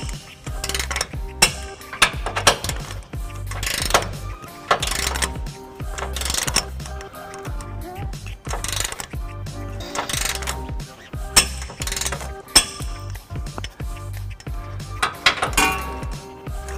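Ratchet wrench tightening trailer hitch bolts under a 2009 Nissan Titan: a steady stream of rapid metallic clicks and clanks, close and loud, continuing for many seconds with a few sharper knocks.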